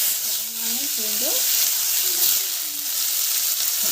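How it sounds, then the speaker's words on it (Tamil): Cumin, onion and garlic hit hot oil in a village kitchen, giving a loud, continuous sizzle and hiss while someone talks over it. "நம்ம வந்து தாளிச்சிடலாம். நம்ம வந்து சீரகம் போடணும். வெங்காயம், பூண்டு,"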